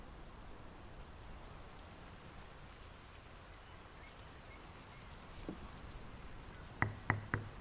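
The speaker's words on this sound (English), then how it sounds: "The rain's picking up." Steady rain hisses throughout at a moderate level in the video game Draugen, with a few sharp knocks or drips near the end.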